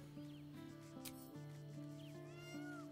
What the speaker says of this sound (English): What cat is meowing at us?